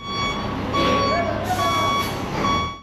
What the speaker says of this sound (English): this big truck needed to go through a small corner